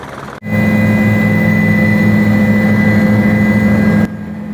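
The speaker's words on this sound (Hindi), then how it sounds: "दूसरी ट्रिप में मुझे हेलीकॉप्टर में जाने का मौका मिला" A loud, steady helicopter engine drone with a deep rumble and faint high whine, heard in flight, continuous for several seconds before cutting to a quieter hum.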